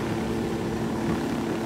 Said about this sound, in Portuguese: Aquele avião ali.